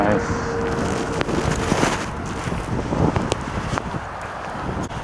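Strong wind gusts across an open golf course, buffeting the microphone with a loud, continuous rumble that rises and falls, while a voice speaks faintly beneath it.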